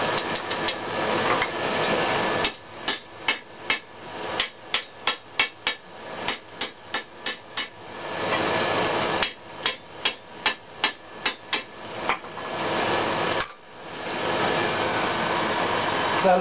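A hammer pounds hot steel to form the eye of a survival froe, in fast runs of ringing, close strikes separated by pauses, over a steady hiss of background noise.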